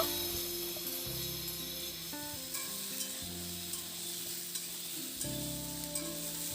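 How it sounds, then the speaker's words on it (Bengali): Potato and ridge gourd are stir-fried in a pan, a soft, quiet sizzle with occasional spatula scrapes under a low steady background tone. "ঝিঙেটা দিয়ে আলু আর ঝিঙে আবার খুব ভালো করে একটু নাড়াচাড়া করে ভেজে নেব"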